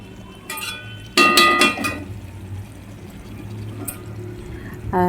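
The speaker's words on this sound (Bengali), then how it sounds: "তো চিলি পনিরটা তো জল ঢেলে দিয়েছি" Water is poured into a pan of chilli paneer during home cooking, with a few sharp clinks of metal utensils and a soft liquid splash over a low background hum.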